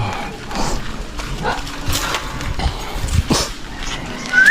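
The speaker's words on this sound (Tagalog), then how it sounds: "Mga aso nila." Dogs at a family house, barking and whimpering at moderate distance in short irregular bursts over a noisy background with no clear talk.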